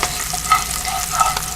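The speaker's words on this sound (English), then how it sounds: "Put your garlic in there. Keep it moving" Garlic sizzling in a hot pan while being stirred, a steady frying hiss with two brief scrapes of the utensil, close and moderately loud with no talking.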